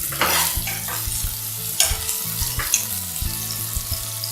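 Chopped onions fry in hot oil for a prawn curry, a loud close sizzle broken by repeated scraping stirs and clacks of a utensil against the pan, with no speech.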